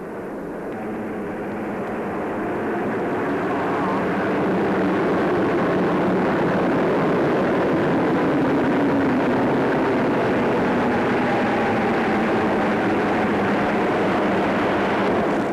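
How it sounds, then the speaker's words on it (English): Jet aircraft of an RAF coronation review flypast, Meteors followed by Canberra bombers, give a steady, loud broadband roar that swells slightly and holds for the whole stretch, with no talking. "Meteors now, and these were followed by Canberra bombers."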